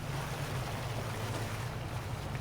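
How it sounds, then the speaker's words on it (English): Water in the farming game Farming Simulator 19 makes a steady, even wash of broadband noise, like gentle waves or flowing water, heard alone without talk. "Good water sound."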